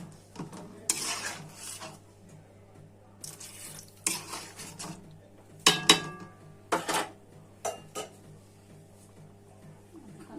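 Broth added to a pan of fish curry being cooked with tomato and new potatoes, with a utensil scraping and clinking against the pan in separate bursts over a low steady hum, close by and with no talking.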